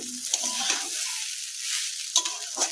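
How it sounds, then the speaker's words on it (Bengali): Biryani ingredients fry and get stirred in a pan, with a soft steady sizzle and a few brief scraping stirs close by, and no talking. "এটাকে ভাজা ভাজা ভাজা ভাজা ভাজা ভাজা করছি"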